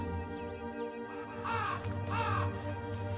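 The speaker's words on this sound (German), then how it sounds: "Kann ich die Rabe nennen? Oh ja, ich kann die Rabe nennen." Two harsh raven caws from the video game Happy Game, heard over a steady background music drone with a melodic bed.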